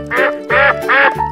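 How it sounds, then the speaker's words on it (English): A cartoon duck gives three loud, nasal quacks in a steady rhythm, close and clear, with nothing else sounding. "Duck."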